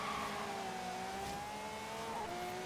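In Forza Horizon 3 multiplayer, another car races by with a sustained, fairly loud engine whine whose pitch sweeps slowly downward as it passes.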